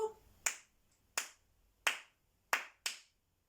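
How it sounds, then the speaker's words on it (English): A teacher claps a short rhythm during a music lesson: five sharp, bright hand claps, close and distinct, spaced unevenly with the last two coming quicker, in an otherwise quiet room. "I'm going to clap one of these rhythms"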